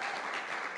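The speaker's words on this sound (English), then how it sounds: "we need a big clap" A brief burst of audience applause at an India education summit's fireside chat, a dense, even wash of many hands clapping together, moderately loud and with no talking over it.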